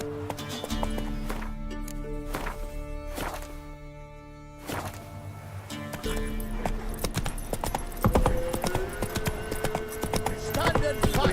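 Horse hooves trotting in The Witcher 3, a steady clip-clop over game music and ambient effects, with brief shouted voices and a whip-like crack partway through.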